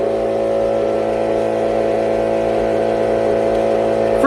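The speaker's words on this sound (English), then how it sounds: "Freaking compressor." Air compressor in a paint shop running steadily with a loud, constant droning hum and mechanical whir, no pauses, with a brief rising noise at the very end.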